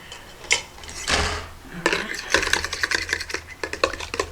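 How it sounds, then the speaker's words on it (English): A fork whisks egg whites in a bowl for candied nuts: a couple of isolated knocks and a soft rush, then a quick run of close, rhythmic clicking taps against the bowl. "we're going to mix this until the egg whites are"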